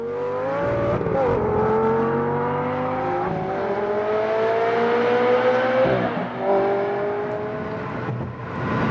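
A cheap exotic car on a road trip, its engine droning steadily from inside the cabin with pitch rising and falling through gear changes, loud and continuous with no talk over it.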